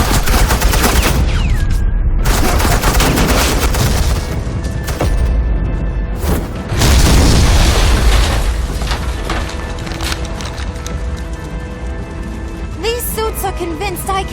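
Suppressing gunfire in Batman: The Enemy Within, dense rapid bursts and booms that roll on through the scene, loud and close, with voices and game effects mixed in.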